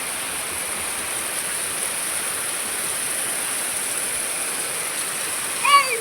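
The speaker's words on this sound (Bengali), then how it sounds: "বৃষ্টিটা কমিস না, একটু ধাপটা কমে গেল মনে হচ্ছে" Steady rain falls in a continuous broadband hiss, loud and even throughout, with a brief faint voice near the end.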